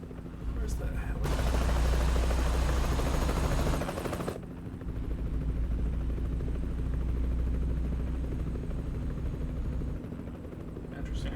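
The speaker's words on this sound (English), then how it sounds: "I hear a helicopter" A helicopter in a truck-driving video game gives off a loud, steady rotor drone that rises and falls in level for about eleven seconds, with someone talking over it.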